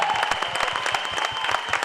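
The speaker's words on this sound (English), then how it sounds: "So please give a big round of applause to Ojas." An audience at a film trailer launch gives a big round of applause, a close, lively patter of many distinct claps with a faint steady tone running beneath.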